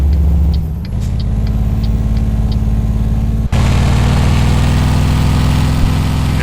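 A Mercedes NG1631 truck engine in the Euro Truck Simulator game runs loud and close with a deep, steady drone, held at revs throughout, with a brief dip and a slightly harsher tone partway through.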